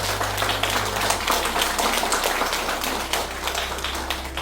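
An audience at a children's literature award ceremony applauding, a steady patter of many hands clapping throughout, recorded with a constant low electrical hum, with no voices.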